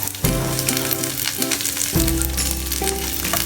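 Chopped shallots dropped into hot oil with popped mustard seeds, a sudden loud sizzle that keeps crackling and hissing steadily, with a few soft scraping touches as they are moved around.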